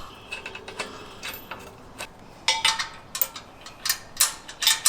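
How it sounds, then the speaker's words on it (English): Metal nuts and washers are threaded by hand onto the front bumper bolts of a Jeep JL Wrangler, producing irregular close clicks, scrapes and ratchet-like metallic rattles in uneven bursts. "Grab a couple of our nuts, a couple washers. Let's go ahead and loosely thread it in place so that nothing falls off."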